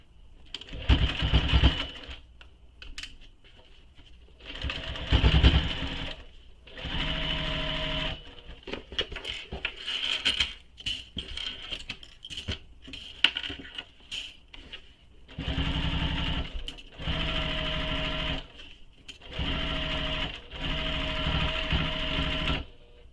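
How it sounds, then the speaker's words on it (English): A sewing machine stitches a fabric pocket closed in several bursts of fast whirring, broken by quiet pauses and small handling clicks, close by. "So I just machine stitch this closed."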